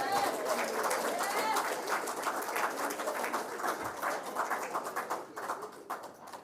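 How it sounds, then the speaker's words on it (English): An audience at a press conference claps for a few seconds; the applause is fairly close and gradually thins toward the end. "Could we have a round of applause for Dr. Harris?"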